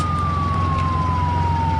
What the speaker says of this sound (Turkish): Ay şu ambulansı göndereyim çok ses çıkartıyor.